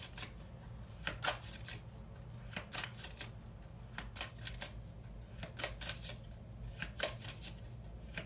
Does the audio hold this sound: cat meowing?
no